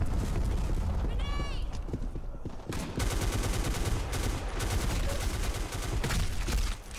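Game gunfire from the shooter Black Squad, with dense repeated shots and bursts running close and loud throughout, and a brief whistling sweep early on.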